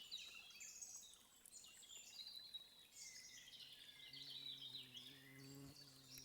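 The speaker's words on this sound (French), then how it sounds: "Vous devez pouvoir entendre les oiseaux." Birds chirp and sing in repeated high calls beside a river in the countryside, over a steady soft wash of flowing water, with no one talking.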